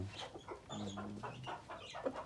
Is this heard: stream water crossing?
no